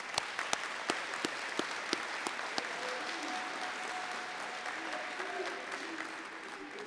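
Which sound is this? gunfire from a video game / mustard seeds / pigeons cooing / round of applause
round of applause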